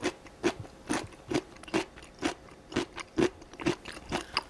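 Crisp, close-up crunching as someone chews homemade orange pickled radish made with sugar, salt, vinegar and orange zest. About ten sharp, evenly spaced crunches come in a steady rhythm.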